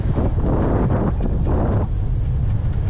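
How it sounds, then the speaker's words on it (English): Northerly wind buffeting a microphone during a long bicycle ride, a loud, constant low rumble with gusting surges and no clear talk. "The wind's been pretty good to me, but you may hear it now. There's a northerly."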